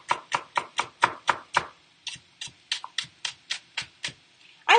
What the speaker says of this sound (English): I'm going to chop those up real quick to add them too